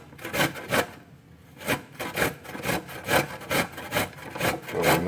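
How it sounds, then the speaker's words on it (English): Fresh ginger is grated by hand to make ginger beer. Close, rhythmic rasping strokes repeat about twice a second, each a dry scraping burst, with short gaps between them. "I'm just pretty much grating this ginger."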